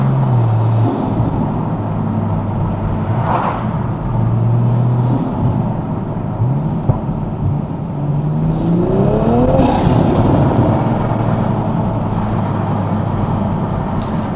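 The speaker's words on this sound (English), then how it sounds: "You probably can't even hear the exhaust over the sound of that ArmaSpeed intake." Inside a Toyota GR Supra with a titanium exhaust and ArmaSpeed intake on a UK night drive, the engine drones loudly, rising and falling through several rev sweeps and gear changes with whooshing intake noise.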